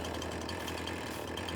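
Steady engine drone of a tractor in Farming Simulator 22, an even, unbroken hum at constant level throughout the short stretch with no other sounds.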